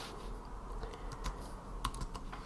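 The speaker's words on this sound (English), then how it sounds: "Basically, we can just type in some stocks." Stock ticker names are typed on a computer keyboard, a run of quick, light key clicks with a few louder taps, close and fairly quiet with no talk.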